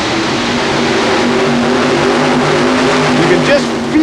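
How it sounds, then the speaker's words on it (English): Modified pulling tractor engines roar at full throttle during a pull in an indoor arena, a loud, steady, droning mechanical growl with constant low harmonics and crowd noise, with an announcer talking over it. "You can just feel this entire building shake and rock as they apply the throttle"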